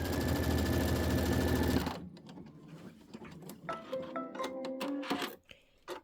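A sewing machine runs a fast, continuous stitch for about two seconds while sewing a quilting trim line, then stops, leaving scattered light clicks and handling sounds nearby.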